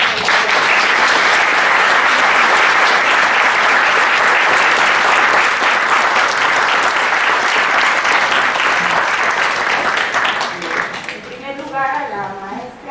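An audience at a round-table panel on gender equity bursts into loud, sustained applause that fills the room for about ten seconds, then fades as a voice begins speaking.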